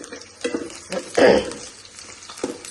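Onions sizzle in hot oil in a pan, with a steady frying hiss broken by several scraping stirs, one louder and longer than the rest, all close up.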